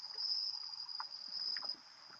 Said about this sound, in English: What is up with the crickets out there?